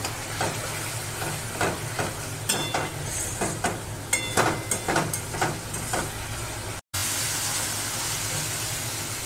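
Sugar and Kashmiri chilli sautéed in a pan with a little water: steady sizzling under rhythmic stirring scrapes, then a brief dropout followed by a louder, even hiss.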